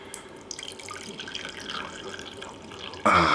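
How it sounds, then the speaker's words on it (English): Liquid pours steadily into a cup with a soft trickling, rising to a louder, brighter splash near the end. "Let's pour a cup of coffee."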